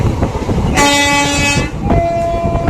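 An Erode to Mettur Dam passenger express train sounds a loud, sustained horn toot for nearly a second over rumbling running noise, followed by a fainter second tone.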